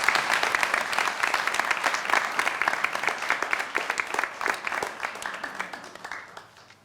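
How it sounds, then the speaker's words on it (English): Audience applause at an early years awards ceremony: a sustained burst of many hands clapping, steady and dense, then gradually thinning and fading toward the end. "Let's give them a round of applause."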